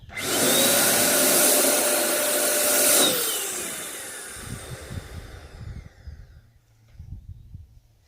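A Multipro ESP 99HP electric spray gun test-sprays paint onto a scrap surface, a loud close hissing whoosh for about three seconds, then handling noises and faint rustling as it stops.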